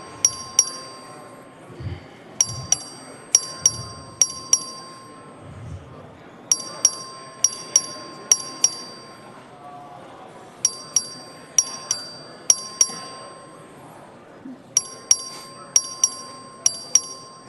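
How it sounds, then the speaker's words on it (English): A clerk rings the voting bell in the Texas House chamber during a floor vote: bright metallic strikes in quick clusters of three or four, repeated steadily throughout, with a faint room murmur beneath. "The clerk will ring the bell."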